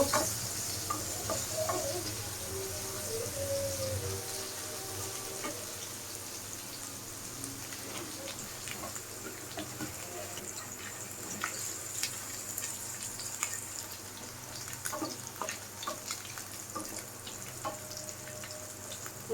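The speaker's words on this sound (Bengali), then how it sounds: "রসুন কুচিটি একটু ভেজে নিব" Chopped garlic frying in oil in a pan, a soft continuous sizzle with scattered small pops and crackles throughout, fairly quiet and without speech.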